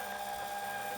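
A Crafter's Companion Gemini Go die cutting machine runs through a cut, giving a steady, continuous mechanical whir with a constant tonal hum, close and unbroken, with no talking.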